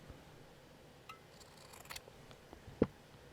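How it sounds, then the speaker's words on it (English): Scissors cut a piece of fabric for a junk journal, with faint rustling handling and then one sharp, crisp snip near the end in an otherwise quiet room. "I'm going to cut a piece of that off."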